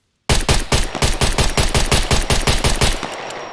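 Rapid, evenly spaced handgun shots fired in the video game Scum with no handgun skill, about a dozen loud sharp reports in a steady burst with no pauses.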